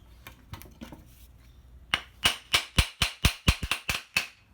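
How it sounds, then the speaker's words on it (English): A hammer handle is driven into its head with a steady series of about ten sharp, ringing blows, loud and close, after a few lighter taps at the start. "It takes some extra hammering in this way to get the handle seated"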